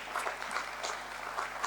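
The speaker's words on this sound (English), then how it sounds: "Let's give him a big hand, ladies and gentlemen" An audience at a BSE IPO listing ceremony claps for an honoree, giving a steady, dense patter of many hands at moderate loudness that continues without a break and without voices.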